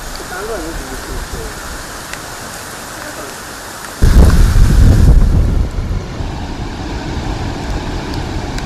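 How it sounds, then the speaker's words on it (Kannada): The world-famous Gokak waterfall roars with heavy, continuous rushing water, the broadband wash surging louder for a moment before settling back into a steady, distant-sounding gush. "ಬಲಭಾಗದಲ್ಲಿ ನೋಡ್ತಾ ಇರೋದು ವಿಶ್ವವಿಖ್ಯಾತ ಗೋಕಾಕ್ನ ಜಲಪಾತದ ದೃಶ್ಯ"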